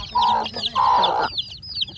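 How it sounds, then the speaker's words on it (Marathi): Hens cluck in two loud bursts, with thin high peeping of chicks scattered throughout, close by and with no talking. "इथं आमच्या कोंबडीने छोटी छोटीशी पिल्ली दिली आहे।"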